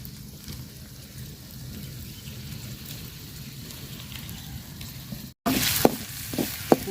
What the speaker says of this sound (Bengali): মশলাটা তেলের সাথে খুব সুন্দর করে ভাজা নিচ্ছি।